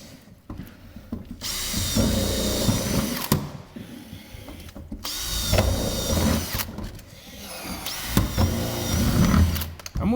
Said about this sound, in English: what we're going to do then is get some rivets in it